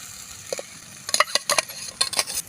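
Tomato paste frying in a clay pot for prawn masala, stirred with a spoon: a steady low sizzle broken by several short, close scraping strokes, a quick bunch in the second half.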